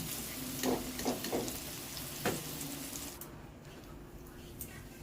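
Potatoes browning in hot oil in a pan for a Bengali katla fish curry with ridge gourd, giving a steady soft sizzle with a few brief stirring clatters near the start.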